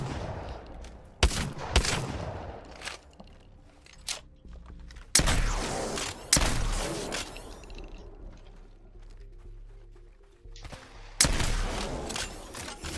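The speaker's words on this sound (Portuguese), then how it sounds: "A primeira vez que eu tô atirando." Gunfire in the Apex Legends battle royale video game, several sharp loud bursts of shots separated by pauses with lingering echoing tails and faint mechanical clicks.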